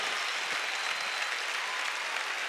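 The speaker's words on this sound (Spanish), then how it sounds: "Qué tal si los de casa les dan un gran aplauso de cariño y de amor" A church congregation claps for visiting congregations in a dense, steady round of applause that fills the room evenly from start to finish, with no pause.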